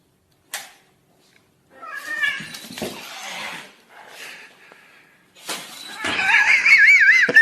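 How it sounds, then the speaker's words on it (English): A cat yowling and meowing in several bursts, with a long, loud, wavering caterwaul near the end; some scuffling noise between calls. "The cat."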